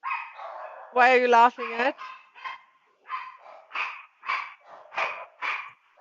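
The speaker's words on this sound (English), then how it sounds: "You can hear the dogs." Dogs bark in a series of short, sharp yaps at a moderate distance, following a brief voice and continuing in a steady run of separate barks.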